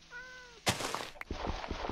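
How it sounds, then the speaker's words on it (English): A Minecraft cat's drawn-out meow rises and falls, then abrupt thuds and scuffling noises follow close by. "I hear a cat."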